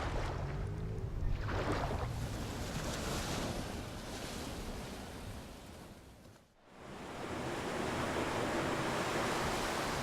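Ocean surf rolls onto a shore at night, a steady loud wash of breaking waves with wind noise and a brief dip midway.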